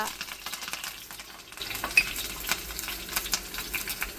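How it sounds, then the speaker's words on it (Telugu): Hot oil sizzles and crackles steadily as tempering spices such as curry leaves, cumin, mustard seeds, asafoetida and dried red chillies hit it in a tempering ladle, with occasional sharp pops and a faint scrape of a spoon, close by. "దీనికి ఇప్పుడు తాలింపు పెడదాం పోపు గరిటెలో తగినంత నూనె వేయాలి"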